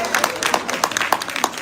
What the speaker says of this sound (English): Clap for your boss.